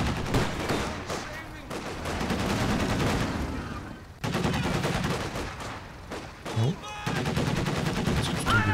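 Machine gun suppression fire rattles in bursts through a Company of Heroes 2 battle, with dense gunfire and explosions forming a loud continuous din while a commentator talks over it.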